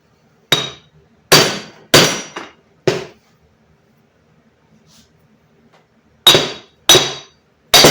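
A small chisel taps on a differential pinion support, with seven or eight sharp metallic strikes in two bursts separated by a quiet pause, close and loud.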